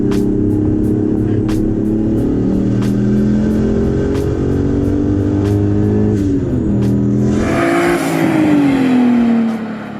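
A project car engine revs hard at a Las Vegas car challenge, a loud steady roar that climbs and shifts pitch, sweeping up near the end, with no talk over it.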